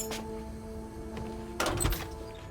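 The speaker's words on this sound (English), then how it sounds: "This time we're using the key, like normal people do." Door unlocked with a key in the video game Hitman (2016), a soft mechanical thunk near the start and a louder clunk toward the end over a low steady game hum, no talking.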